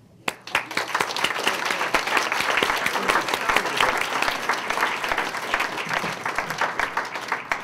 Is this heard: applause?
yes